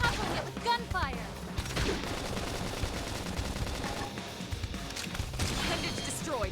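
Rapid bursts of gunfire in a Xenoblade Chronicles X battle, chattering fusillades with sharp impacts and a crash, set against game music and sound effects while a player talks over the action.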